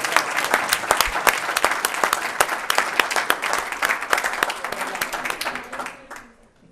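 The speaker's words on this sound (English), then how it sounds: "Give them a round of applause." An audience at a county board of commissioners regular business meeting applauds with many distinct, close claps, sustained for several seconds before tapering off, while some voices are audible beneath it.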